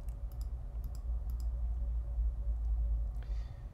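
Several quick, close computer mouse clicks come in small clusters over a low steady hum, with a faint rustle near the end.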